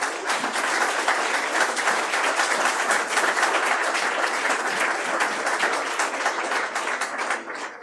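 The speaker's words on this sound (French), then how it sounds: "Et les applaudissements du public et en musique." An audience at a property developers' award ceremony applauds warmly, a continuous wash of many hands clapping at steady volume for nearly eight seconds, tapering slightly at the close.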